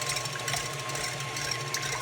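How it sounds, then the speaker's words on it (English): Stand mixer fitted with a whisk attachment whipping egg whites for a soufflé, a steady mechanical whir with a constant motor hum throughout, no talking. "So here's my mixer."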